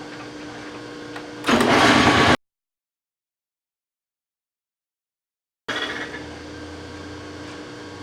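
A metal lathe machines a part for a Starrett surface gage, giving a steady motor hum with a short, loud burst of cutting noise. The sound then drops to silence before the running hum returns.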